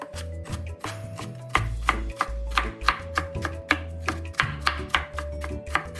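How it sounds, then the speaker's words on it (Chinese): Kitchen knife mincing diced lotus root on a cutting board, a brisk run of close, loud chops in a steady rhythm with no talking. "然后再稍微剁几下。"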